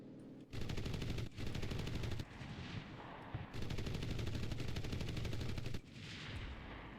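In the Enlisted video game, an IAR 80 fighter plane fires its cannons in long, rapid bursts with short pauses between them, loud and close, over a steady engine drone.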